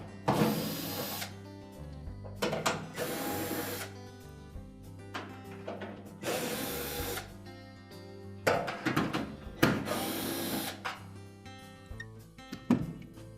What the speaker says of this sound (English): our next step is to remove 4 screws that secure the inlet duct assembly to the blower housing